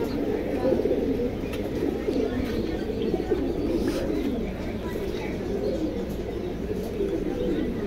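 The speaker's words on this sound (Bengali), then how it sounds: "তোতা ফেসের কবুতর।" Pigeons of the parrot-faced breed kept in cages at a market sale, with steady cooing and soft calls running throughout, moderately loud and continuous against a busy background.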